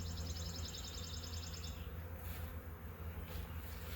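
Honeybees hum in a steady, low drone close by at a hive, with a faint higher whine over it that fades partway through.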